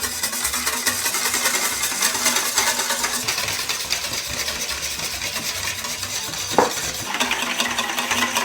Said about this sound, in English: Now we add oil and whisk it.